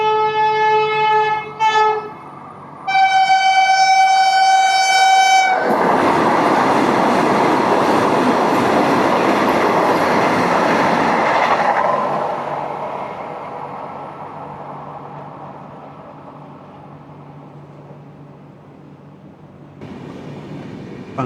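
A Vande Bharat express train sounds its horn in several loud tones, then thunders past at speed with a sustained roaring rush that gradually fades, heard from an adjacent track on Indian railways.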